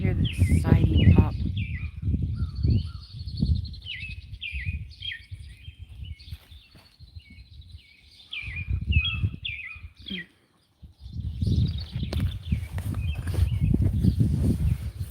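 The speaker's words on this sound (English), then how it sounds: "Man, the birds are just going nuts." Yard birds chirp and call in quick, busy bursts, bright and fairly close, while a person talks over much of it with brief quieter gaps.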